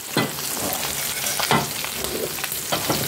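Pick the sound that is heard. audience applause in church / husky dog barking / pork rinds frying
pork rinds frying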